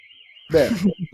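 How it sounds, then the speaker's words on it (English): A car alarm in a parking garage somewhere nearby, a faint, distant warbling electronic tone that keeps repeating behind someone speaking close by. "I'm assuming it's a car alarm or something parked in the parking garage somewhere that"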